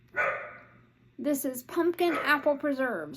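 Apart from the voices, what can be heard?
dogs barking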